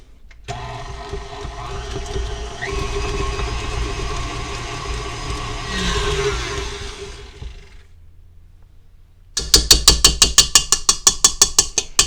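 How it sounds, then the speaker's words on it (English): A mixture is whisked by hand while homemade butter is made, giving a steady close mechanical whirring rattle that pauses, then changes to a loud run of rapid rhythmic clicks. "I'm actually going to go ahead and whisk this in"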